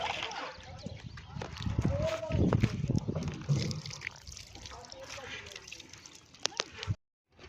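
Water from a filled bucket is splashed and sprinkled in irregular wet spatters and trickles at a building site where roofing sheets are going up, with people talking over it.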